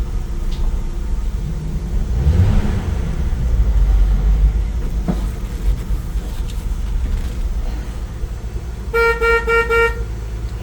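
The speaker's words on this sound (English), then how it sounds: "Horn works." A 1968 Ford Bronco barn find sounds its horn in a series of rapid toots near the end, after idling engine and suspension noise in a vehicle cabin.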